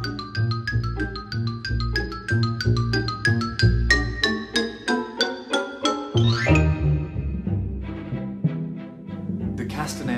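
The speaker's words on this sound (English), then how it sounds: "Xylophone, also a pitched instrument." Xylophone played as part of an orchestral percussion section demonstration, a run of bright, evenly struck pitched notes forming a melody, clear and fairly loud.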